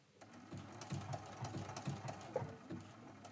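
A sewing machine stitches a very small blanket stitch along a quilt applique edge, a steady rapid mechanical patter at close range with no voices.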